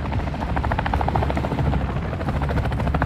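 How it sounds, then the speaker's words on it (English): A chopper gunner helicopter in the video game Call of Duty: Modern Warfare II, its rotor thumping in a steady, dense rhythm with a loud, continuous drone throughout and no voices. "Our chopper gunner is inbound hot."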